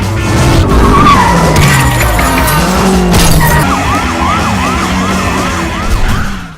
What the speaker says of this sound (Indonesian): suara sirine tak berhenti berbunyi